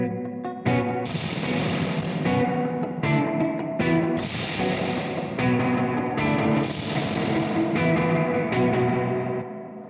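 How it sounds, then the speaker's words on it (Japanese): An electric guitar plays chords through an Ana Sound spring reverb pedal with a splashy, drippy reverb tail, each strum ringing and washing into the next. "ちょっと面白いのがアナサウンドのスプリングリバーブ"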